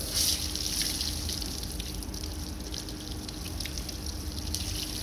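Water flushes from the outlet of a combination air valve during servicing, a steady close hiss and splash with dripping, holding level throughout with no talk.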